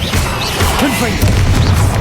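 Confringo explosive spell in Hogwarts Legacy combat, heavy smashing crashes and pops layered over a constant rumbling din, with a few whooshing, swooping tones and a sharper crash burst past the midpoint.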